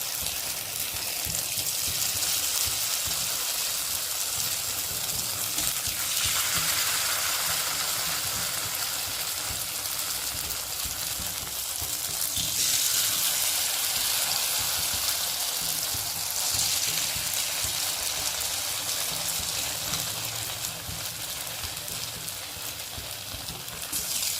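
Bitter gourd chips deep-frying in hot oil, a steady close bubbling sizzle that runs unbroken and fairly quiet, with slight swells as more slices go in.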